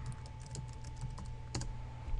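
Quiet, close typing on a computer keyboard: a run of light, irregular key clicks over a low steady hum.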